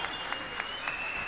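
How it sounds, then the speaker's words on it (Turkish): A concert audience applauds the Antalya Metropolitan Municipality band and city orchestra, with dense, steady clapping that fills the hall and rises in small bursts. "Antalya Büyükşehir Belediyesi Bando ve Kent Orkestrası'nı alkışlıyor efendim."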